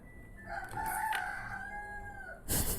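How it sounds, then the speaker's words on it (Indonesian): A rooster crows once in a drawn-out, wavering cock-a-doodle-doo at moderate distance, followed by a brief burst of rustling noise at the end. "Ada suara ayam."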